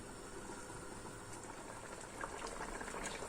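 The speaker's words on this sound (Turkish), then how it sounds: "Şimdi tekrar kaynamaya bırakalım." Pumpkin jam bubbling in a pot while it is left to boil again, a steady close simmer of popping bubbles and hiss with no talk.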